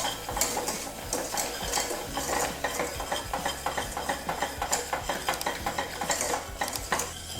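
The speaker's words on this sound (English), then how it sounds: "Now add 6 tablespoons of butter and quickly whisk to combine" Butter being whisked quickly into hot caramel sauce in a pan, a brisk, rhythmic metallic scraping and clatter of the whisk against the pan with a low sizzle underneath, close and continuous.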